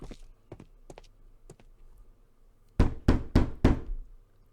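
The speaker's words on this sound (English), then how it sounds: "Knock, maybe?" Knocks land on a door in Sherlock Holmes: The Devil's Daughter: a few soft taps first, then four loud, evenly spaced raps close by.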